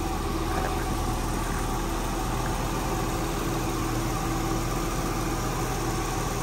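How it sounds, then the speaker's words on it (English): A 1993 Nissan 300ZX engine idles steadily close by, a constant mid-pitched hum with low rumble and slight vibration, unbroken and with no voices. "Very powerful engine for 1993."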